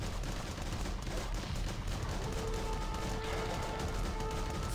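Rocket fire in the video game Tiny Troopers Joint Ops XL, steady rattling blasts and explosions packed into a constant loud wash of battle sound.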